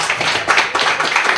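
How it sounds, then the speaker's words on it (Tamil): Audience applause at a certificate presentation ceremony for a training academy, a brief burst of dense, close clapping from a crowd. "ஒரு பலத்த கைத்தட்டல் கொடுங்க."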